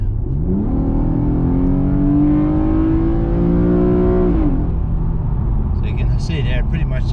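A Nissan Skyline 370GT with a 3.7L V6 in automatic mode accelerates hard from 60 to 100, engine note climbing steadily, then one downshift drop around the middle, loud and close inside the cabin with road roar underneath.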